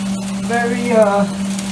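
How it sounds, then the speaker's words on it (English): Shredded cabbage and onion stir-fry in a hot pan for Chinese American cooking, giving a loud, close sizzle over a constant low hum with a brief tonal whine in the middle. "typical standard stir fry for like shredded vegetable, cabbage, onion"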